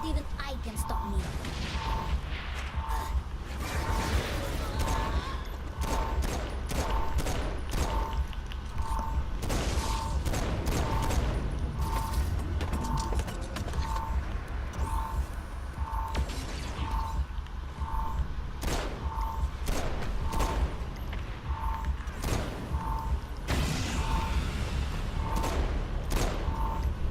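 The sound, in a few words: weapon gunfire in video game Saints Row 4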